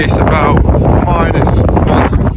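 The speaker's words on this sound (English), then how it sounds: "it's very windy" Strong gusting wind from Storm Darragh buffets the microphone at a go-kart track in Kimbolton, a loud rough roar that surges and drops, while someone talks over it.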